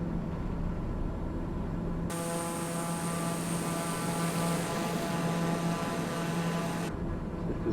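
A TBM 930 turboprop in flight heard from inside the cabin, a steady engine drone and hum with a constant whining tone, even and continuous throughout.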